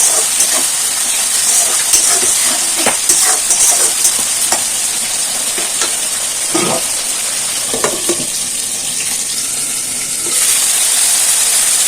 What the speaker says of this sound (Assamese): অলপ টাইম ভাজি ল'ম মছলাখিনি